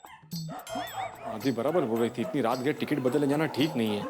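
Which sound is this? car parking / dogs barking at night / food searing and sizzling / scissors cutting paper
dogs barking at night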